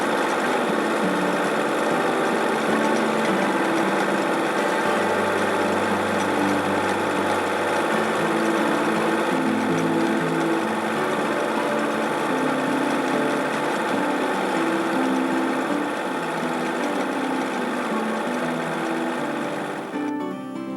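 A sewing machine runs steadily for about twenty seconds while stitching around an appliqué outline on a tomato-shaped pincushion, with a continuous loud motor hum and no talking.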